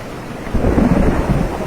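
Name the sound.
storm sound effect with rain and thunder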